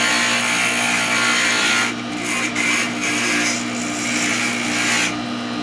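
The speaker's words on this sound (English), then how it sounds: "I'll just simply grind that just a little tiny bit." A glass grinder's wheel grinds the edge of a small stained glass piece, a steady close whirring hum with gritty rasping that rises and dips as the glass is pressed in, no talk.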